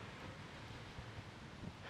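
Wind blows outdoors in Pasir Ris, Singapore, a low, faint, continuous rumbling hiss buffeting the microphone with no voices.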